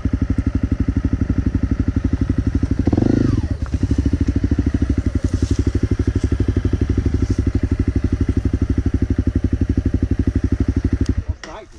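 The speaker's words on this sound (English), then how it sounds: "My bike just turned off, yeah." A Honda CRF 250L dirt bike in the woods on a failed hill climb, its single-cylinder engine chugging close and loud in a rapid steady rhythm, briefly straining before abruptly cutting out.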